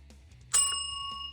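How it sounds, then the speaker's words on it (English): A notification bell sound effect gives a single bright ding that rings on with a clear sustained tone before fading, over a faint low hum. "ring the notification bell"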